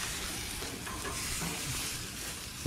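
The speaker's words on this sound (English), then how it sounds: "Hear it sizzling" Steak sizzles in a hot pan, a dense continuous crackle and hiss without a break, close and fairly quiet.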